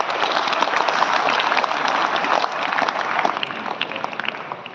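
Steady applause from a school audience at Pratham International School in Rewari, many hands clapping together in a continuous, moderately loud wash that holds for the whole stretch.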